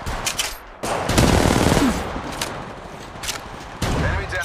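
Sustained automatic gunfire in Apex Legends Mobile crackles in bursts, louder around the middle and again near the end, with short quieter pauses between volleys.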